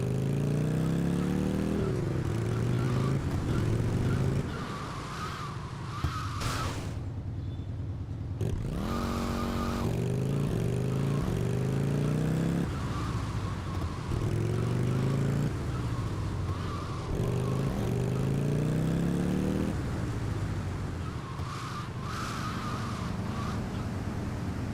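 A motorcycle engine in a video game revs and shifts in repeated rising sweeps as the bike skids around, with brief drops and restarts between runs.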